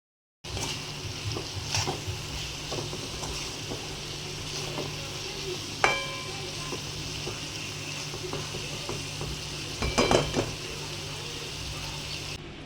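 Mixed Bhogi vegetable curry of brinjal, green chickpeas, potato, broad beans, peas and peanuts frying in a home kitchen pan, a steady close sizzle with occasional stirring scrapes and a couple of sharper knocks.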